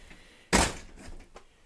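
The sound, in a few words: door of an aluminum sided trailer being closed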